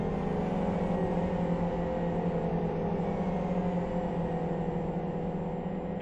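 GT racing cars circulate on track in a sim racing game, a dense, continuous engine drone with a steady low rumble and layered tones, no voices.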